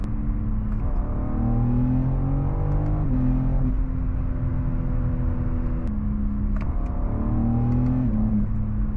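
A BMW M3 Touring Competition 3.0 inline-six engine revs up and eases off in repeated waves, a smooth rising and falling drone heard from inside or close by, with no talking.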